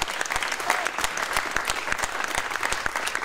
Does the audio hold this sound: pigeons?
no